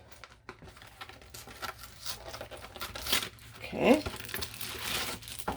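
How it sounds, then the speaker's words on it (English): Cardboard carton of a frozen Celeste pizza being opened and its plastic wrap crinkled and torn, a close crackly rustle building to a louder tearing burst near the end, with a brief spoken word in the middle. "So I'm going to open the box."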